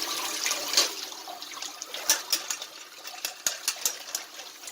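Tap water runs softly over wild foraged mushrooms in a colander in a kitchen sink, a light trickle with small splashes and clinks, fairly faint and steady without speech.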